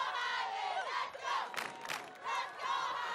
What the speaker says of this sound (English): And this crowd absolutely loves it.